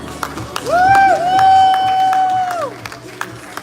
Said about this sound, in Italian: Accogliamo con un applauso Alessio Palma